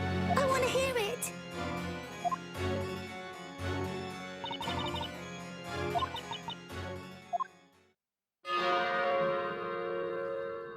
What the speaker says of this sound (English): I just really want to ring that bell. I want to hear it.